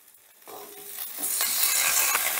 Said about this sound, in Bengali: এবারে আমি দিয়ে দিচ্ছি ধুয়ে রাখা লাউ শাক